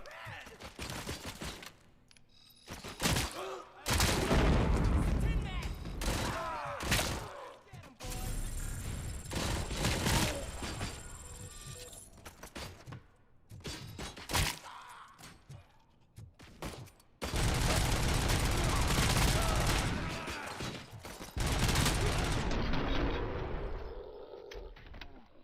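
Full-auto gunfire in RoboCop: Rogue City blasts in long, loud bursts broken by short pauses, the rapid shots dense and close, with metallic mechanical clatter between volleys.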